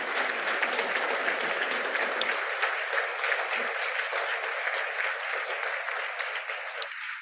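An audience applauds case managers and a housing team at a program event, a steady, even round of clapping that holds for several seconds and then tapers slightly.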